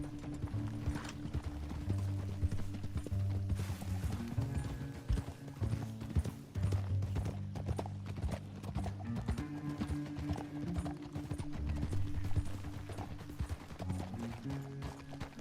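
Rapid clip-clop of horse hooves in the video game Red Dead Redemption 2 trots steadily throughout, layered over sustained background music with occasional heavier thuds.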